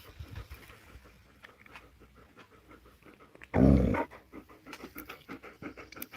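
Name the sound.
dog growling and panting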